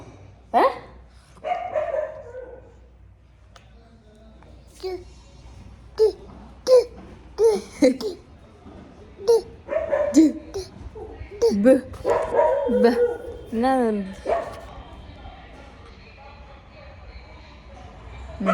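A dog outside barks in short repeated bursts, fairly close, mixed with a fussing child's babble and whimpers and someone speaking in between.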